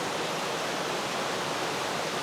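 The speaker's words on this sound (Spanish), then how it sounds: "y cómo baja el río por aquí." Strong river current near its source in Benamahoma, rushing steadily as a loud, continuous broadband roar of fast water with no breaks or talk.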